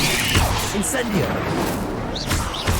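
The Incendio fire spell in Hogwarts Legacy casts with fiery whooshes and sharp crackling hits, amid spider-fight combat noise with brief voice sounds mixed in.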